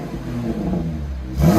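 Chevy Camaro RS V6 with an MBRP axle-back dual exhaust idling with a deep rumble, then revving up sharply at the very end, loud and close, with no talking.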